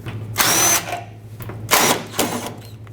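A power drill or impact driver removes 10mm fasteners on a 1995-2004 Toyota Tacoma, several short, loud whirring bursts close by with brief pauses between them.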